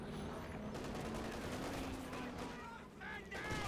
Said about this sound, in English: Nice grenade package coming down here.